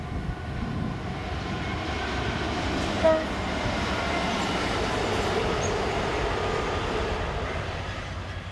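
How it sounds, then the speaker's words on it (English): Three Direct Rail Services Class 66 diesel locomotives haul a train past with a steady rumbling drone of engine and wagons, a brief horn note partway through. "Direct Rail Services sent these three Class 66s from Crewe to Stowmarket."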